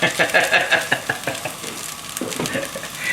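Curry noodles being stir-fried with sesame seeds, a steady sizzle broken by repeated scraping and tossing strokes, close and fairly loud throughout.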